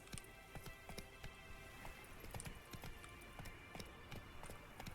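The horse Roach runs in The Witcher 3, hooves clip-clopping in a quick, steady gallop rhythm, fairly faint under a light ambient game background.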